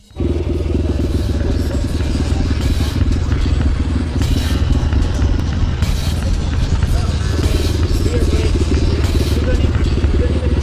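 An Ohvale mini motorcycle rides on a track, its engine buzzing loud and continuous with rough clattering and wind noise close to the rider.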